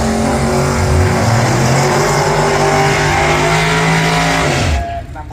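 A low-slung Chevrolet race car, local driver Dave Foster's, roars loudly on a racing track, its engine pitch climbing and sweeping before the sound falls away abruptly near the end.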